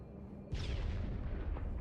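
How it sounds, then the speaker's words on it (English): An explosion in a Star Wars video game: a sudden loud boom bursts out of a low rumble and holds as a roaring, crackling blast that slowly fades. "What's exploding? Why is there exploding?"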